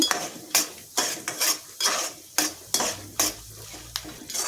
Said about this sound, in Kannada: ಈಗ ಉದ್ದಿನ ಬೇಳೆನ ಸೇರಿಸಿ ಈ ಮೂರು ಪದಾರ್ಥಗಳು ಕೆಂಪುಗಾಗೋವರೆಗೂ ಹುರ್ಕೋಬೇಕಾಗುತ್ತೆ